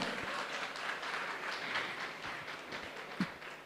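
Audience clapping at a Tamil women's public gathering in Ambattur, forming a steady, dense wash of many hands that holds for a few seconds with one sharper clap near the end.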